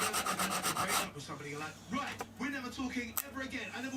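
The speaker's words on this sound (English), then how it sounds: "I refined the length of those pieces with some sanding to get a nice tight fit" Short wooden pieces for drawer box shelves being sanded with quick, rhythmic rasping strokes, then slower rubbing while someone talks nearby.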